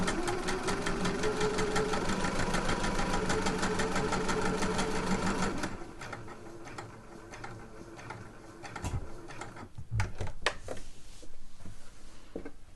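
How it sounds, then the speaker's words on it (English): A sewing machine stitches a bodice panel with a very short stitch length, its fast steady mechanical chatter running for several seconds before it stops. Scattered quiet handling clicks and fabric movement follow. "but with that very short stitch length it'll take you a long time to travel"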